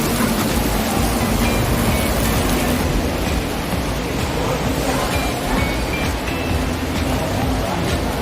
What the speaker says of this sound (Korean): 오자마자 비 오고 있습니다